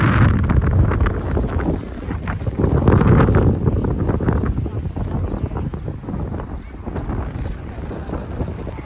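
Strong wind on a beach at Malico, San Nicolas, Pangasinan buffets the microphone in a steady, rumbling roar that swells and eases, with faint voices underneath.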